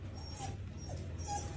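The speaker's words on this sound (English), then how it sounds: "things soon start to get even weirder, because the family dogs begin to act really strange" Family dogs whimper and yip in short, thin, high cries a few times over a low background hum, sounding somewhat distant and faint.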